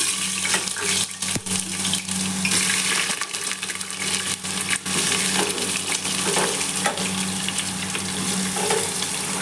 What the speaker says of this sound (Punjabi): ਇਧਰ ਤੇਲ ਗਰਮ ਹੋ ਚੁੱਕਿਆ ਹੈ ਬੈਂਗਣ ਵੀ ਆਪਾਂ ਨੇ ਧੋ ਲਏ ਆ ਹੁਣ ਆਪਾਂ ਤੇਲ ਵਿੱਚ ਪਾ ਦੇਵਾਂਗੇ ਬੈਂਗਣ